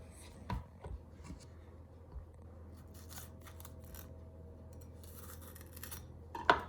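A knife slicing the white pith from inside bell peppers on a kitchen surface, a few faint scraping cuts and soft taps, close but quiet, spaced irregularly and ending with a sharper click.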